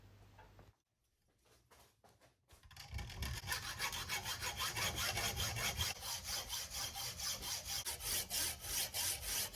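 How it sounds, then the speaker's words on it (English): A hacksaw cuts a slit into an odd scrap bar of very hard steel clamped in a vise, making a split bush; after a few quiet opening strokes, steady loud rasping back-and-forth strokes follow in an even rhythm. "I'm going to put it in my vise and cut a slit in it to make a split bush"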